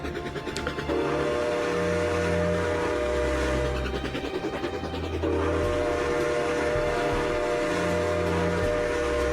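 Train rumbling steadily along a hilly line in the Trainz 2019 railway simulator, a continuous loud run with tonal engine drone and a sustained whistle-like tone throughout, no talking.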